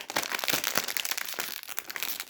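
A chili-and-lemon snack bag from a carton of five-pound toy snacks is torn open, its plastic crinkling loudly and continuously up close for a couple of seconds.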